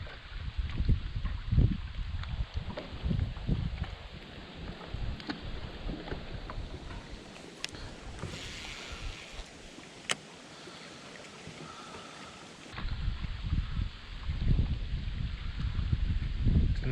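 Steady breeze gusting across the microphone outdoors on the water while fishing, a low rumbling wind noise with occasional light knocks and a calmer lull midway.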